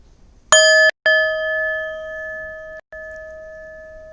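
Meditation bells chime alone in a quiet room, a quick double strike followed by a third ring that sustains and slowly fades, with a brief break near the end.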